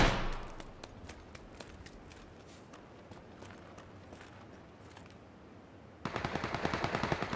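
Automatic and single gunshots from a multiplayer shooter video game, with sharp scattered reports early on and then a loud, rapid burst of machine-gun fire near the end.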